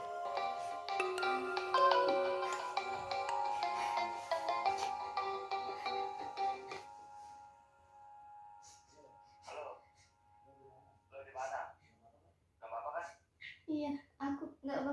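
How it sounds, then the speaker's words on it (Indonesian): A phone ringtone sounds loudly for an incoming call, a bright repeating melodic tone lasting several seconds before cutting off, followed by a child-like voice speaking in short bursts. "ada telepon masuk dari Ardi"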